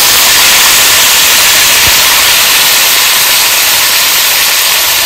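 Cut potatoes and vegetable stalks drop into hot oil with whole cumin and green chillies, setting off a loud, close, continuous hissing sizzle that holds evenly throughout.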